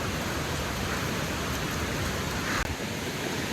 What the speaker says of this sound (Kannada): ಸೊನ್ನೆ ಮಳೆ ಫುಲ್ಲು